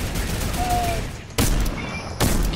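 Gunfire in Fortnite Chapter 2 Season 8 aimed at the cube, two loud bursts of shots separated by about a second, over a dense game background.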